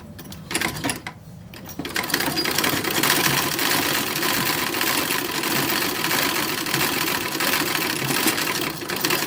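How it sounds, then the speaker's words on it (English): Antique 1907 sewing machine stitching fabric, a loud rapid mechanical whirring and clatter that starts after a short pause and runs steadily, close and alone. "we are going to use the 1907 machine."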